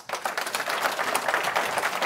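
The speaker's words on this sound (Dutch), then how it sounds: "Dus een hartelijk applaus." Audience at a security hacker conference bursts into dense, continuous applause, many hands clapping together for about two seconds with no talk over it.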